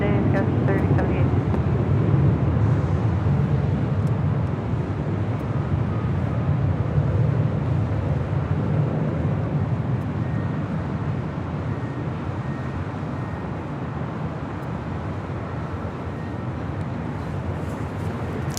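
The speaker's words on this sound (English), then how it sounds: "this is Alaska Airlines in the Star Wars livery. Flight 813 heading into Kahului. It's a 737-800." Alaska Airlines Boeing 737-800 in Star Wars livery taking off at Los Angeles International Airport, a loud broad jet roar that slowly eases off over the run, with voices talking over it.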